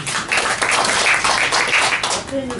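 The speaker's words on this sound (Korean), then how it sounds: "여러분 우리 김인수 목사님에게 감사의 박수 부탁드립니다." A church congregation applauds in thanks for the pastor during a worship service, a dense, sustained wash of clapping with a voice briefly audible near the end.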